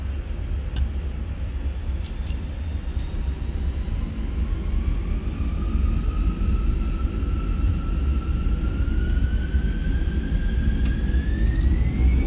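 Airliner jet engines spool up for takeoff in a flight simulator game, a loud, steady roar with a rising whine that climbs in pitch toward the end.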